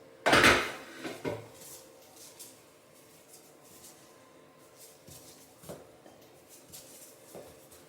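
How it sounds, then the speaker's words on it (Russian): Soft bumps and clinks of bread buns being set into a square metal baking tin with buttered sides, one sharp knock at the start and then a few quiet taps spaced apart. "Укладываю булочки на небольшом расстоянии друг от друга"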